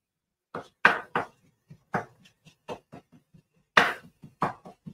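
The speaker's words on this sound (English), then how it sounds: "chopping this up" A knife chops an onion on a board in a loose, irregular rhythm, about a dozen crisp thuds, some louder than others, close up with no talking.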